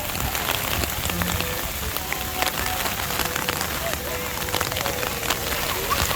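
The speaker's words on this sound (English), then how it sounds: "Dude, it's literally hailing." Hail and rain pelt down at Disneyland under an umbrella: a dense, steady, hissing patter with sharp ticks from hailstones that continues unbroken, with faint voices buried in the downpour.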